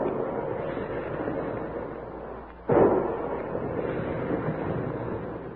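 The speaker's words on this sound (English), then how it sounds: "Big guns. Hear them?" A single heavy boom like big guns firing, a radio drama sound effect, bursts out midway over a steady, muffled background rumble and then fades into a lingering low roar.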